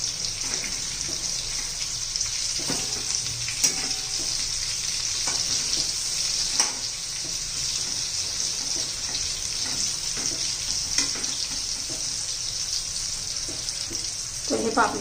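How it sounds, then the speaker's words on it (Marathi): Bitter gourd frying in oil in a pan, a constant bright sizzle running the whole time, dotted with faint clicks and scrapes as pieces are turned. "तेलामध्ये टाकून शिजून घेणार आहोत"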